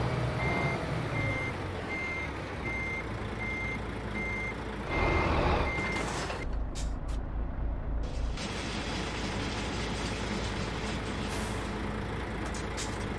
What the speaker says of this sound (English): So let's just reverse in, and we'll pick up this trailer